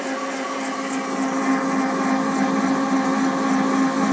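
Food processor mixing sablé biscuit dough with softened butter, a steady loud motor whine running without pause.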